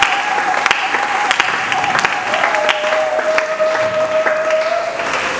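A church congregation applauds loudly, dense sustained clapping with cheering voices and a pitched tone ringing through it.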